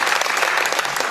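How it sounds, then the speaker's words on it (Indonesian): An indoor audience at the opening of a regional Buddhist gathering in the Riau Islands applauds school dancers who performed the Malay Sekapur Sirih dance, brisk dense clapping that is continuous and fairly close. "Sekali lagi berikan tepuk tangan kepada Sekolah Bodhi Dharma"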